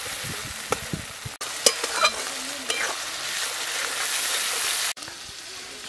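Spice masala with chopped tomato and salt sautéed for a stingray curry, a loud continuous sizzle with spoon scrapes and stirring knocks against the pan, close and without talk.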